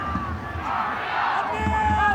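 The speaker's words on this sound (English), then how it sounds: "The crowd are right into this game." A rugby league stadium crowd at an NRL finals match between Penrith Panthers and New Zealand Warriors roars and cheers in a broad, continuous swell, with a commentator talking over it.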